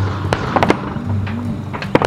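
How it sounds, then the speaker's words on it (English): Gunshots crack across a central Victorian wetland at dawn, heard as a few sharp, scattered reports over a steady outdoor background. "Morning is broken by gunfire torn."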